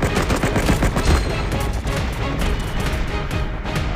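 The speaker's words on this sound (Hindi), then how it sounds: "रोबोट बहुत फायर कर रहा है, इसको मारना होगा।" Rapid gunfire from the mobile shooter game Cover Fire, with a robot enemy firing heavily, forms a dense, loud, continuous burst of shots with no pauses throughout.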